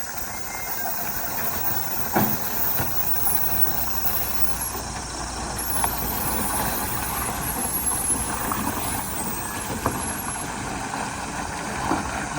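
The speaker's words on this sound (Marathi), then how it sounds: "मोठ्या गाड्या बघा कशा उतरतात." Heavy loaded trucks rumble steadily down the Kumbharli Ghat mountain road, engines droning low with occasional hissing air-brake bursts and clunks, continuous and fairly loud.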